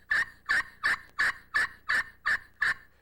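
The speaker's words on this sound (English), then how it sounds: "I'm using friction against the glass and the striker, which produces a sound." A glass friction turkey call worked with a striker gives seven evenly spaced, raspy yelps, loud and close, with no other sound around them.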